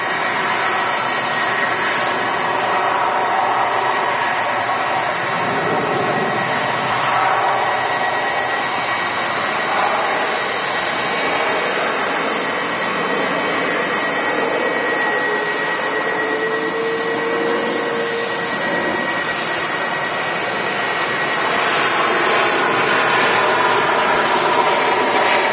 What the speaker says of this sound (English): Turkish Star Alliance Special is currently taking off on the other runway.